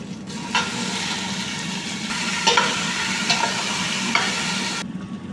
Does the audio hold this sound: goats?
no